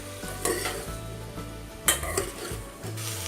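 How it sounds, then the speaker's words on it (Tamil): Medium brinjal pieces, cut lengthwise, frying in oil in a pan and stirred with a utensil, giving a steady close sizzle broken by a few scraping clinks against the pan. "கத்திரிக்காய் எண்ணெயில் 3 நிமிஷம் நல்லா வதங்கிருச்சு."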